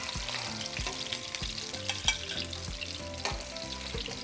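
Meatballs sizzle in hot oil for Mexican chipotle meatballs, a steady frying hiss running under louder rhythmic background music with a regular beat.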